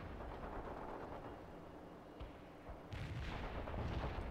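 Artillery fire in the World in Conflict video game: dull rumbling booms under a dense low battlefield roar, growing heavier and louder in the last second and a half, quiet overall and without voices.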